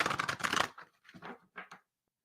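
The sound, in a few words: shuffling tarot cards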